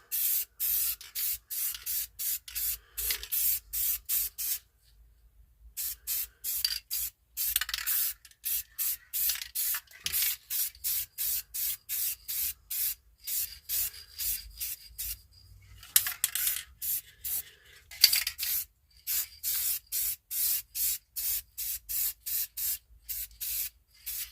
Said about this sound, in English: So, just paint this, give it a nice little coat.